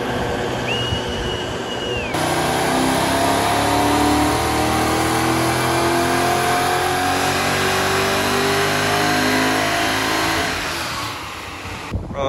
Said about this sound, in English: we'll get some fuel in the VY and get it on the dyno.